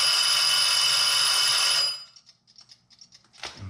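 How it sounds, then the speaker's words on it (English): A timer marking the end of a degreasing step in a zinc electroplating process rings loud and continuously for about two seconds, then stops, leaving faint clicks and a short knock. "And so that was the timer"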